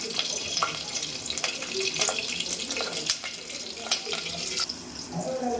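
Mustard seeds, curry leaves and turmeric hit two spoons of hot oil for a spinach chutney tempering, giving a continuous close crackle and spatter with scattered sharp pops throughout.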